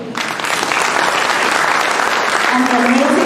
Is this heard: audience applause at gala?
yes